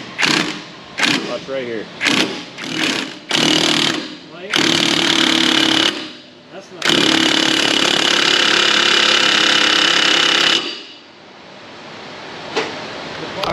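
Impact wrench tightening on a ball joint press on a Ford F250, close and loud, first several short rattling bursts, then two long hammering runs, with brief talking between bursts.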